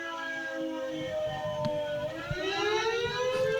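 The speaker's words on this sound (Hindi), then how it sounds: "यहां पर भी सायरन बज रहे हैं" A civil defense siren wails during an alert in the Chandigarh tri-city area, a long rising tone heard from a distance over low background rumble, climbing in pitch toward the end.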